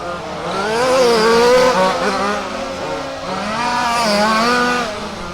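Rally race cars at Warm Springs Raceway during the 2025 West Coast Championship Rally main event, engines revving loudly with rising and falling pitch as they power through the course, continuous and close with no talk.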